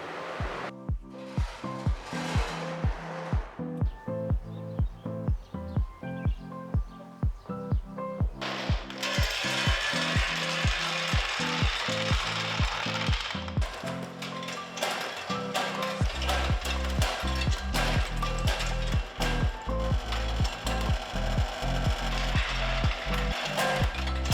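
An extractor fan in a macadamia nut drying room starts up and runs as a loud, steady whoosh, following and then mixing with rapid rhythmic ratcheting mechanical clicks.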